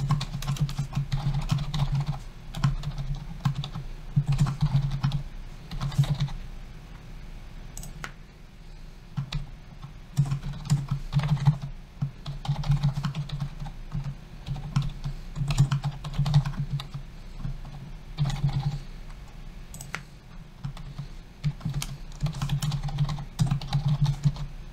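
Steady, fairly close typing on a computer keyboard while entering code for a Power BI date slicer, with rapid keystroke bursts and short pauses running continuously, no talking.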